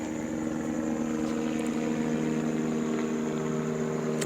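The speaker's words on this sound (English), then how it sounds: "And I want you to hear the helicopter." Helicopter flying overhead, heard as a steady, droning rotor and engine hum that holds at an even level throughout, with no speech.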